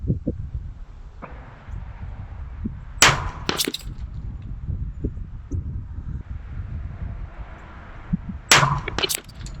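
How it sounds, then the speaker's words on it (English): Gunfire from a neighbouring shooting bay at an outdoor range on a gusty day: two distant, sharp cracks, each with a quick follow-up report, rising over a low, steady wind rumble. "that gunfire is from the class one bay over"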